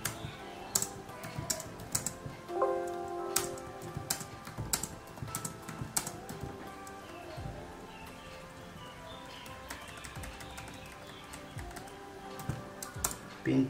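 Keys clatter on a computer keyboard in bursts of rapid, irregular clicks while code is typed for an optically isolated low-triggered 8-channel relay driver board, close and moderately quiet throughout.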